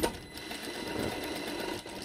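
A sewing machine stitches along a traced line while making a bow-shaped hair elastic, a steady close, loud running whir that dips briefly near the end, with no talking.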